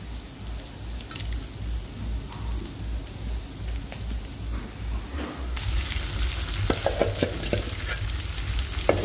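Onion frying in a pan for a Bengali lentil mash gives a steady close sizzle and crackle, with occasional stirring scrapes and louder pops building toward the end and no voices.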